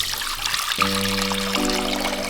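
Water streams into a cooking pot for a Mexican drink, a steady trickling pour lasting a couple of seconds, close and clear with tonal ringing from the pot.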